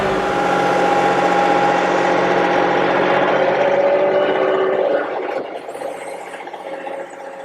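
A John Deere 2038R compact tractor engine running with auto throttle, a steady loud drone with tonal whine that holds high then drops to a lower, quieter idle about two-thirds through.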